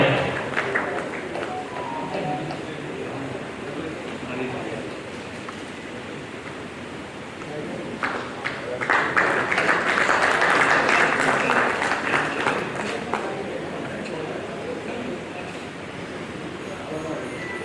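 Audience applause at a ceremony in Kanpur honouring descendants of revolutionaries, a broad crowd clapping that swells in the middle and then eases, with voices heard faintly alongside.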